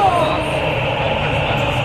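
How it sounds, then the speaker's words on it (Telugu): A pink Bangalore metro train rolls into the station, a loud, close rumbling roar with a rising whine, filling the short moment. "పింక్ కలర్ ట్రైన్ వచ్చింది."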